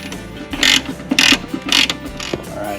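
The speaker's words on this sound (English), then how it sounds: "next we're going to go ahead and pull these bolts loose that attach the cowl to the fenders" Ratchet wrench loosening the bolts that hold a G-Body car's cowl to the fenders, three short bursts of rapid clicking close by, alone.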